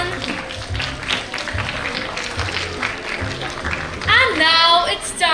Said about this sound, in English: A huge round of applause for our guests